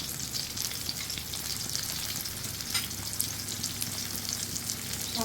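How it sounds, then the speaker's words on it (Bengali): Sliced pointed gourd (potol) fries in a pan, giving a steady close crackling sizzle that runs evenly throughout with faint stirring clicks and no talk. "এবার পটলের এই পাশটা ভেজে দিচ্ছি।"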